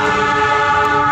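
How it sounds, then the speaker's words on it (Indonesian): A passing train near a forest park in Surabaya, heard as a loud, sustained tonal horn-like drone with steady rumbling underneath, close and continuous throughout with no voices. "ini adalah suara kereta"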